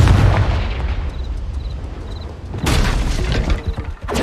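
A loud Confringo fire-spell blast in Hogwarts Legacy: a booming burst fades into a low rumble, then a second sharp crackling explosion hits with shattering debris before tailing off.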